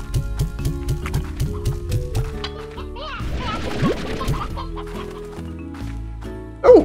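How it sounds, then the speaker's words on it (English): Chickens clucking in the video game Slime Rancher, a run of short repeated clucks up close, mixed with game music and ambient noise, with a burst of louder flapping-like noise partway through. "Oh, we got plenty of chickens over here."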